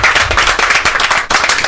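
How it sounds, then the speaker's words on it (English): Studio audience applauding two contestants after a Brewcaster challenge on a brewing show, loud close crowd clapping in a thick continuous burst with sharp hand slaps throughout. "A round of applause for both our contestants."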